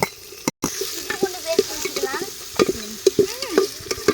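Green chilies, onion and curry leaves fry in hot oil while being stirred. The sizzle is close and continuous, with frequent scraping strokes of the spoon and faint voice-like tones behind it.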